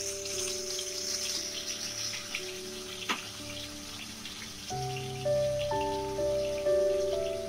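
Nigella seeds, garlic and green chili paste frying in hot oil, a soft, steady sizzle and crackle beneath sustained background music tones, with the sound growing a little louder toward the end.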